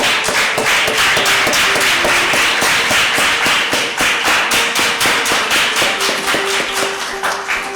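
Rhythmic applause from a church congregation, a steady run of sharp claps that is loud and close, keeping time as a single pattern for the whole stretch.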